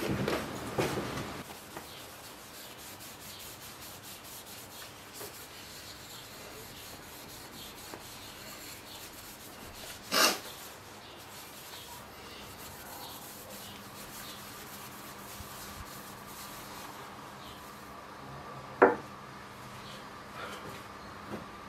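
Soft, continuous rubbing of a cloth polishing excess finish off handmade wooden Dotterel vases, low and steady with a couple of brief knocks as the piece is handled, no talking.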